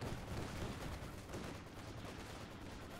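Artillery barrage from a ZiS gun in the Company of Heroes 2 strategy game: a dense, continuous rumble of distant shelling and gunfire, steady and loud throughout without pauses.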